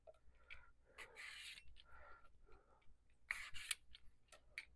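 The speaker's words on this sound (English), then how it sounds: "And I have part of a cucumber here. I'm just going to peel part of it." A cucumber being partially peeled with strokes drawn toward the peeler in an RV kitchen, a few short scraping, rasping strokes in quick bursts, close and fairly quiet with pauses between them.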